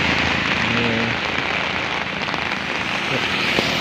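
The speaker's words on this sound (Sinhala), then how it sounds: "මේ වැස්ස එක දිගට මේ දවස් දෙකක් තිස්සේ මේ විදිහම" Steady, heavy rain pours down onto surfaces nearby during flooding in Sri Lanka, a dense continuous hiss with scattered drips and patters throughout.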